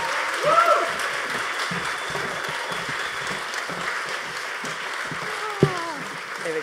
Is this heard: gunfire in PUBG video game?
no